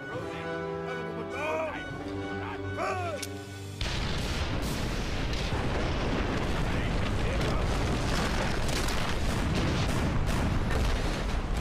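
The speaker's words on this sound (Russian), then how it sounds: "Мы взрываем этот полностью туннель" Explosives blow up a tunnel in the game Valiant Hearts, releasing a sudden loud blast that becomes a sustained rumbling roar of debris and fire. Music plays before the blast.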